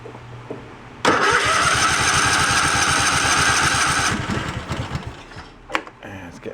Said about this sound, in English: we'll see if she fires over with the key